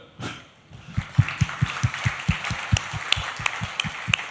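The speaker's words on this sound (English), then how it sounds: "Hey, can we get a round of applause for the audience?" An audience at a live comedy show claps in a steady, rhythmic beat, the claps close and even, building after a short pause at the start.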